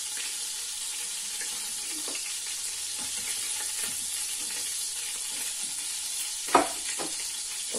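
Steady, close sizzle of minced meat frying in hot oil with bacon, a continuous crackling hiss with occasional stirring knocks and one brief louder clatter near the end.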